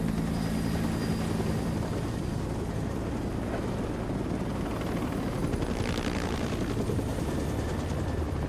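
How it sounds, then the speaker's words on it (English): Helicopters drone continuously in the video game Ghost Recon Breakpoint, with a low, steady rotor thrum and engine whine held at constant loudness and no talk over it. "what the heck are these helicopters?"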